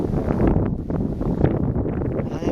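Wind gusting through an outdoor garden, a steady broadband rush with rustling bursts and buffeting against the microphone, loud and continuous throughout.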